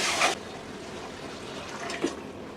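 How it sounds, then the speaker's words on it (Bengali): Broth poured into a mustard hilsa curry (shorshe ilish) in a pan: a short splashing pour at the start, then quiet simmering and a brief second splash near the end, fairly soft overall. "এখন আমি পরিমাণ মতো ঝোল দিয়ে দিব"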